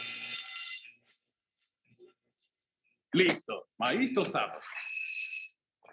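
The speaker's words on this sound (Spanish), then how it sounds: "es la alarma de incendio" A fire alarm rings in loud, steady electronic bursts at the start and again at the end, with voices talking and shouting in between.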